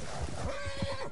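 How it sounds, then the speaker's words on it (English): A horse in a video game lets out a single close, wavering whinny lasting about a second, set against a steady background of game noise. "Oh, be quiet, you damn horse."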